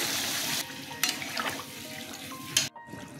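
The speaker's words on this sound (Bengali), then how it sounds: "এবার জল দিয়ে দিচ্ছি" Water poured into a cooking pan of spiced potatoes, a steady splashing rush followed by a few sharper gurgles and a final splash before it stops abruptly.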